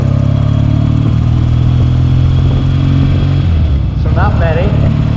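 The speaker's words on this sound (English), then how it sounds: "Yamaha XS2. I think, let's see, I put 41 miles on it since rebuilding this engine." A rebuilt vintage Yamaha XS2 motorcycle engine idles with a steady, loud low rumble throughout, a short rising whine cutting through near the end.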